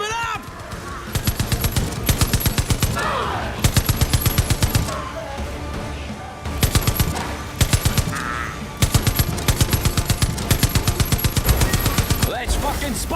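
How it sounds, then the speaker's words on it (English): A high-powered machine gun in the video game Far Cry 5 fires at zombies in repeated loud, rapid bursts, several seconds each, separated by short pauses and punctuated by game effects and a few shouted reactions. "A fucking high-powered machine gun?"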